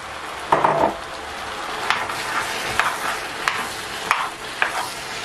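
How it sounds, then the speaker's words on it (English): Spoon stirring a pot of seafood mushroom okra soup, repeated scraping strokes over a steady sizzle, close and fairly loud, with occasional knocks against the pot. "And I'm going to stir this pot together very well, as much as I can."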